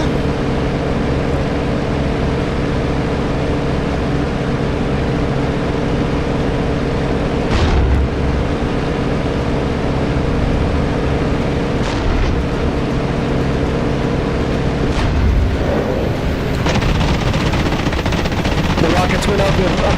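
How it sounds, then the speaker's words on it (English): Anti-aircraft flak fire in a flight combat video game thuds and rumbles under a steady droning engine, with a few heavier bursts standing out, while a voice talks over it. "there goes the flak. They're shooting the flak."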